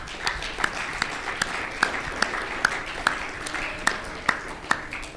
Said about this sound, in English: Let's give these gentlemen a round of applause.